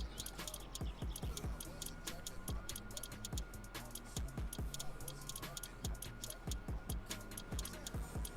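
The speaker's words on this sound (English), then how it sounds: "now we're gonna tighten like 3 bolts on the top with a 10mm spanner" Repeated metallic ticks and clicks of a 10mm spanner tightening engine bolts on a Satsuma car in My Summer Car, a steady rapid ratcheting rhythm over a low constant hum, close and moderately loud.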